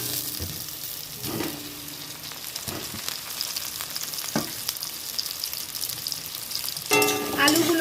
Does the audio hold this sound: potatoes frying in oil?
yes